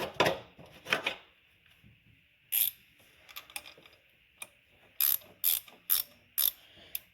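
A valve spring compressor tool is turned by hand on the cylinder head of a 2006 BMW 750i N62 V8 engine, producing a series of sharp, close ratcheting clicks in short bursts.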